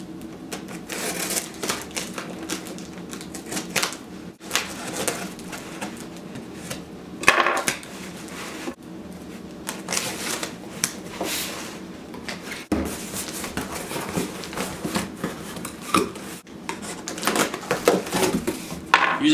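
Someone opens a heavily taped cardboard box of seed packets, making irregular ripping, tapping and clattering noises at close range, with sharp louder bursts scattered through.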